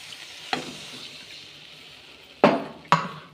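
Water poured onto fried spice paste for an egg curry sets off a steady sizzle, with three sharp bursts as the liquid hits the hot pan, all with no voices.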